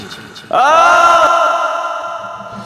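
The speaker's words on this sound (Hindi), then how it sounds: "और फिर एक जोर की चीख।" A single loud, sustained scream erupts suddenly and holds its wailing pitch before slowly fading, heard alone as a horror story sound effect.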